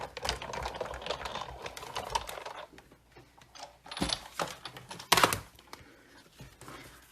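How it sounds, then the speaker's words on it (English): A paper card passes through a manual embossing machine inside an embossing folder, giving off a grinding, clicking mechanical crank with a few sharper clunks toward the end, close and fairly quiet. "Okay, I'm going to emboss that."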